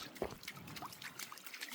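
Water trickles and laps faintly and continuously as a dog drinks from a stream in a regional park, with small splashy blips throughout and no voices.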